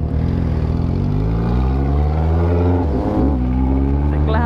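A Honda Hornet motorcycle with a modified exhaust revs hard and steadily, trying for a burnout. The engine drone stays loud and close throughout, with a brief dip and surge near the end.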